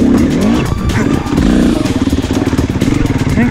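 An off-road motorcycle works along an OHV trail at Georgetown's Mace Mill routes, its engine loud and close, revving and chugging in a rough, pulsing rhythm as it climbs.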